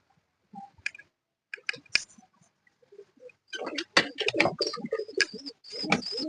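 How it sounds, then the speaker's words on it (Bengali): Pigeons are let out of their loft: soft coos and wing flutters come first in sparse bursts, then a dense cluster of flapping and clicking as several birds stir at once, close by. "এখন আমি আমার পায়রাগুলোকে ছেড়ে দেবো।"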